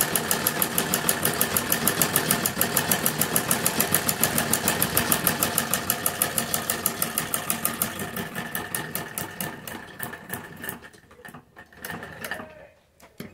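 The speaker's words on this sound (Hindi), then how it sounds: "सिलाई लगा लेंगे।" A sewing machine stitching a palazzo seam runs in a fast, even rhythmic patter that slows and stutters to a stop near the end.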